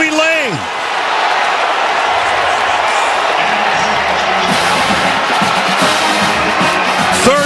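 A stadium crowd at a Michigan college football game roars steadily after a touchdown pass, a dense, sustained wash of cheering that holds for several seconds while commentators talk over it.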